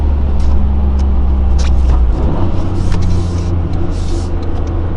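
A 2023 Toyota GR Corolla fitted with a carbon fiber intake coasts off throttle, giving a steady loud engine drone under road rumble whose low pitch settles lower partway through.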